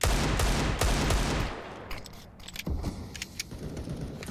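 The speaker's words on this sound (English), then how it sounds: "Deagle sounds scary" Desert Eagle shots in a Counter-Strike match on the Vertigo map, heavy sharp reports firing close together at the start, then fading into scattered lighter clicks and distant gunfire.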